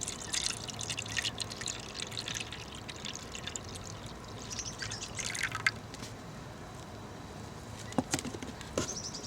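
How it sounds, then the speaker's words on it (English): Liquid mixture pours and drips into a plastic wasp trap in short bursts, with a few sharp clicks and taps near the end. "So you just get your mixture, pour it into this middle section."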